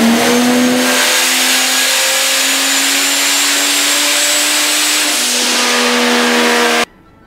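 Ford Fairmont Futura with a boosted Vortec 4200 engine held at high revs on a dyno, a loud, steady close-up roar that climbs slightly in pitch, shifts once, then cuts off abruptly near the end.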